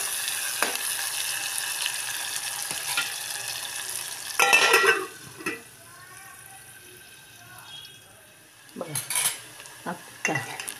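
Brinjal frying with onions in a pan gives a steady sizzle throughout, broken by a few louder clattering stirs and utensil knocks near the middle and end, with no talk over it.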